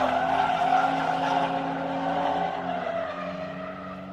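Drift car tires skid through a long, loud, continuous squeal during a grassroots drifting competition, with engine roar underneath that fades slightly as the car moves away.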